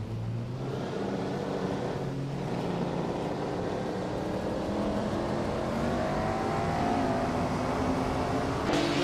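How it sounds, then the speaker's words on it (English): 1959 Maserati Tipo 61 Birdcage race car in a racing video game, its engine droning continuously and rising gradually in pitch as it accelerates, steady and moderately loud, with no talk. "driving a 1959 Maserati Tipo 6061 birdcage"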